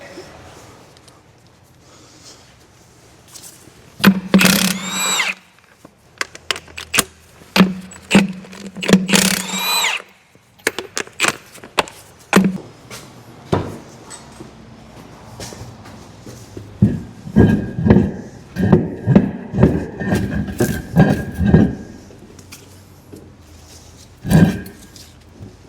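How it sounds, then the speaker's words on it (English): Lug nuts come off a New Holland T6180 tractor wheel in loud, close, rattling bursts of a power tool, separated by pauses and clanks; a few short, scattered bursts follow near the end. "I'm gonna make some racket taking these lug nuts off."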